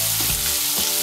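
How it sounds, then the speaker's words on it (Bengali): Chopped onions fry in oil until reddish, a loud, close, unbroken sizzle with a couple of soft stirring bumps and no voice over it. "পেঁয়াজ কুচিটাকে আমি লাল করে ভেজে নেব।"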